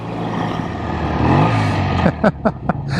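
A 1965 BSA Thunderbolt 650 motorcycle rides along in fourth gear with a steady, close engine drone, then a few sharp gusts of wind noise near the end.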